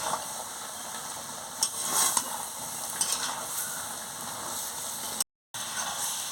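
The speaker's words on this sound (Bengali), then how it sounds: "পরিমাণ মতন মিষ্টিটাও দিয়ে দিচ্ছি দিয়ে ভালো করে কষিয়ে নিচ্ছি" Mixed vegetables sizzle in a pan while being stirred and sautéed for a Bengali vegetable dish, a steady close frying hiss broken by scraping spoon strokes and brief clatters.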